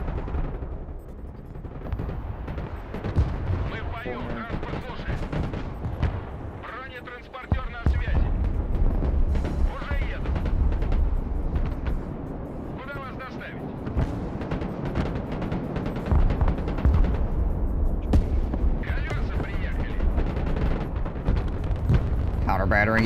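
Counter-battery artillery fire in the Broken Arrow strategy game, with deep booms and explosions rumbling steadily under someone talking throughout, a dense low barrage that swells in places.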